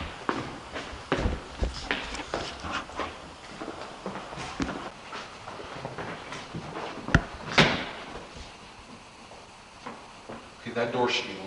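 A door in a church hallway bangs and creaks among scattered knocks and footstep-like thumps, with one sharper clack partway through and people talking quietly over it.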